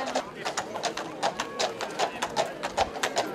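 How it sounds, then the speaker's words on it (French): Horse hooves clip-clopping at a foal fair, a steady even rhythm of hollow strikes on hard ground that carries clearly at moderate loudness, with a faint background hubbub. "Donc c'est un cheval."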